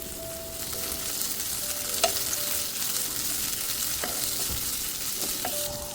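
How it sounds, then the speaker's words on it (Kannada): Cut bitter gourd tipped into onions frying in a kadai, followed by steady stirring over a continuous sizzle, with a few sharp scrapes of the spoon against the pan and no talking. "ಇವಾಗ ಆನಿಯನ್ ಚೆನ್ನಾಗಿ ಫ್ರೈ ಆಗಿದೆ. ಇದಕ್ಕೆ ಕಟ್ ಮಾಡಿ ಇಟ್ಕೊಂಡಿರುವ ಹಾಗಲಕಾಯಿನ ಹಾಕ್ತಾ ಇದ್ದೀನಿ."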